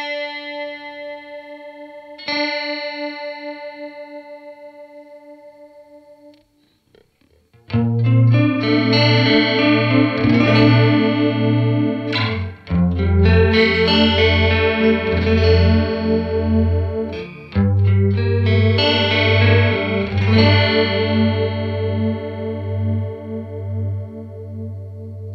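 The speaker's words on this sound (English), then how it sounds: "A stunning chorus sound." An electric guitar plays through an EarthQuaker Devices Rainbow Machine pedal set for a chorus effect. A few sparse notes ring out first, then fuller strummed chords swell with a lush, shimmering, wavering tone.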